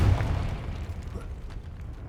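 A Confringo blast from the Hogwarts Legacy video game lands as a deep boom right at the start, then decays into a low, fading rumble with a few faint crackles.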